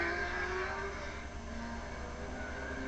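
Race car engines idle and rev at Bridgecity Speedway in 1986, a steady droning roar with shifting engine tones, moderately distant, no voices.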